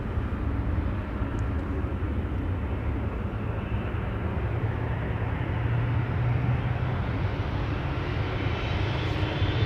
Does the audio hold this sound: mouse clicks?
no